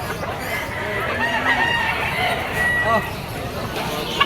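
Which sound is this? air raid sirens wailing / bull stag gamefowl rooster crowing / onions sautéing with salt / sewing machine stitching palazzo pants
bull stag gamefowl rooster crowing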